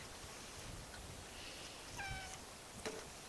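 A cat meows a couple of times in a quiet workshop during hand weaving of a Bronze Age string skirt replica, the calls short and moderately close against faint room noise.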